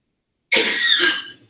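A single sharp cough in a quiet lecture hall, close and fairly loud, with a short throaty tail fading out after about a second.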